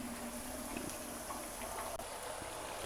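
Potatoes fry in a pan with a continuous dense sizzle and crackle, steady and close, with no talk over it.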